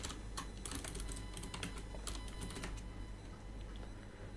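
Steady, fairly close typing on a computer keyboard while writing code for a Raspberry Pi lane-detection project, a dense run of key clicks over a constant background hum, no talk.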